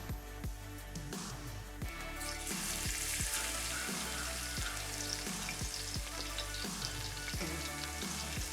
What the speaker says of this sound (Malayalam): നമുക്ക് ആദ്യമേ വെളുത്തുള്ളി ഇഞ്ചിയൊക്കെ ഇട്ട് നമുക്കൊന്ന് മൂപ്പിക്കാം